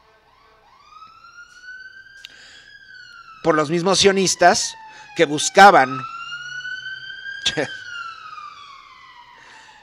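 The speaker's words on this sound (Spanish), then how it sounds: "Déjenme que pase la ambulancia." An ambulance siren passing by outdoors: a long rising then sustained wailing tone, moderately loud and steady, with someone speaking over it in bursts partway through.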